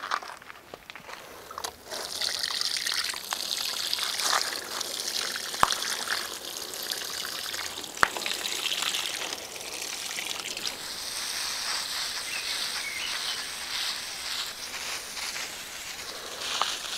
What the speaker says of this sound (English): filling up loads of watering cans and then just going round and watering